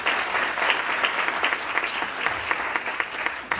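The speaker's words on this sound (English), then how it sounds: "Please give a round of applause." Audience applause at a Crohn's and colitis education symposium, steady dense clapping from a seated crowd, loud and sustained throughout.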